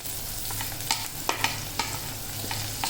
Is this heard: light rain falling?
no